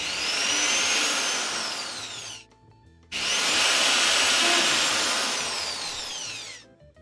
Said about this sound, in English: We're definitely going to make a lot better progress with the corded tool